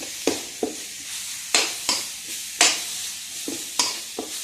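Shallots are stir-fried in a pan, with a steady frying sizzle under repeated sharp scrapes and clacks of a spatula against the pan at an irregular pace, close and fairly loud, with no talking.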